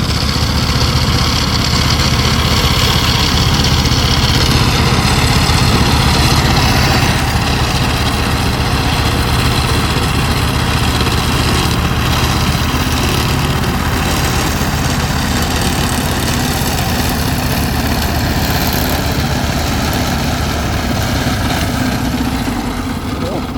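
Loud, steady chugging of a Hinomoto E25 tractor engine idling close by, continuous throughout with a rough low rumble.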